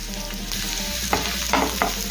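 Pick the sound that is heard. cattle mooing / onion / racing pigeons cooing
onion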